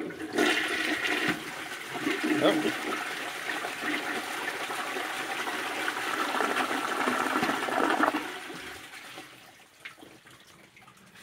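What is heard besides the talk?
1958 Briggs toilet flushing with overfilled tank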